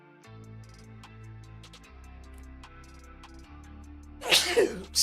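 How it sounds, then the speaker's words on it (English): A single sharp, loud sneeze bursts out near the end, standing out above quiet melodic game music playing in the background. "I'm having a sneeze attack."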